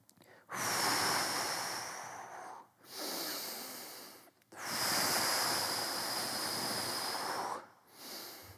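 A person breathes out, then in, during a stretching mobility exercise, in three long, close, airy breaths of about two seconds each with brief pauses between, and no talk.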